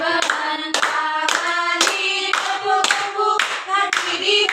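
Children in a third-grade classroom clapping their hands in rhythm with a song, sharp repeated claps landing on the beats under loud, tuneful group singing.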